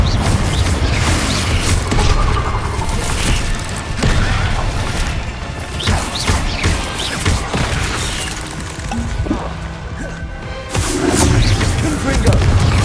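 Fiery Confringo spell blasts in Hogwarts Legacy combat, heavy booming bursts and crashing impacts layered under continuous loud game music and battle noise, with a voice calling out spell names.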